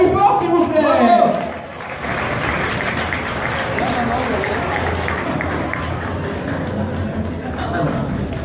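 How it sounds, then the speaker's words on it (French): Audience at a cosplay contest results ceremony applauds the cosplayers, starting with a loud burst and settling into steady, dense clapping and crowd noise that carries on throughout. "on les applaudit encore plus fort, s'il vous plaît"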